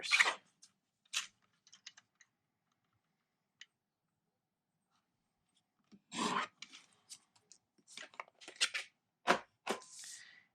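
Paper being trimmed down for a Stampin' Up card: a few sharp, close cutting snips and rustles scattered across the clip, broken by quiet gaps and light handling noises.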